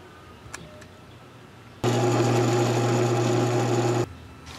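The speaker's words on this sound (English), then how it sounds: "I'm just cutting along the line that the Forstner bit made" A power tool cuts wood along a line left by a Forstner bit while shaping a duckling lure, a loud steady whine that starts abruptly, holds for about two seconds and stops, with quiet room sound before and after.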